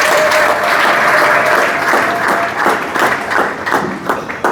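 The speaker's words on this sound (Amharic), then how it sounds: "አጨብጭቡ ለእግዚአብሔር ክብር።" A church congregation at a prophetic service claps for the glory of God: loud, dense, continuous applause from a large crowd, sustained steadily throughout.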